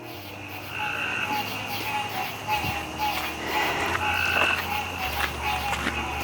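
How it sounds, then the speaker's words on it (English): Frogs calling at night outdoors in Louisiana, a steady chorus of repeated croaks and chirps of different pitches, mid-distance, with people talking quietly nearby. "Frogs out tonight."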